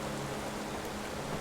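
Steady, dense rain hisses evenly in the racing game GTA V (FiveM), a continuous wash of drops with no breaks and no voices.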